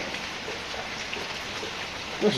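Steady rain pouring outside a home kitchen during the rainy season, an even, unbroken hiss throughout, with a small bump of noise near the end.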